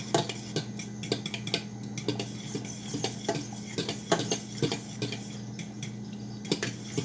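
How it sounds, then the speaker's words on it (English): Spaghetti sauce simmering in a pan while being stirred, with soft, steady scraping and light clinks of a utensil repeating close by over a low steady hum, no voices. "And then we're gonna let it simmer and stir it occasionally."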